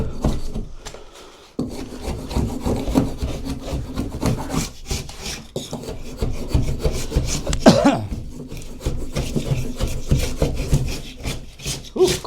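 Wallpaper is scraped and stripped by hand from a wall in a house under renovation, a loud, close, continuous rasping and rubbing with steady strokes and brief pauses.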